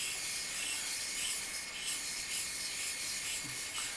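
A straight razor is drawn across a hone in a soft, steady rubbing scrape, faint and continuous with slight strokes, and no voices over it.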